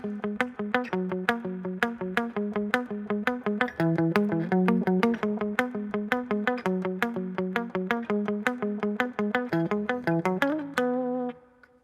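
Distorted electric guitar chugs through a verse riff, with tight rhythmic palm-muted picking and chord stabs in a steady driving pattern, played alone and close, ending on a held chord.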